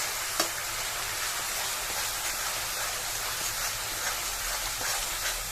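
Paneer masala spices frying in oil over a low gas flame, giving a constant close, rain-like sizzle that runs evenly throughout with no voices.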